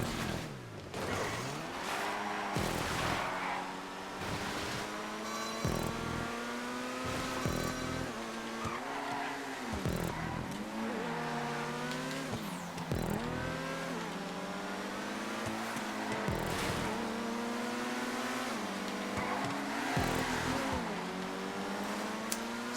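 Supercars race in GTA 5, including a Banshee 900R and a Voltic, with engines revving and shifting through gears in rising and falling whines, plus occasional tire squeal, sustained and loud.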